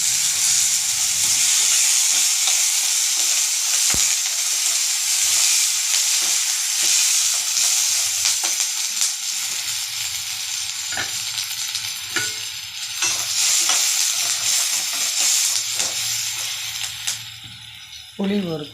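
Pirandai (adamant creeper) sautéing in a pan, a steady sizzle with hiss and occasional stirring clinks running throughout, close and fairly loud.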